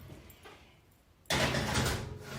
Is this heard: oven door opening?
yes